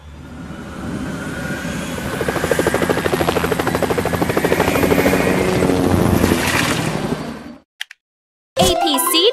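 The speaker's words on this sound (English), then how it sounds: "Helicopter rescue." Rescue helicopter in a children's JCB video game: a loud, steady rotor thump and engine whine that drones for several seconds, then cuts off abruptly, followed by a brief burst of game sound.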